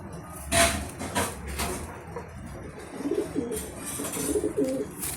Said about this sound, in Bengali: বড্ড ছটপটে পায়রাটা।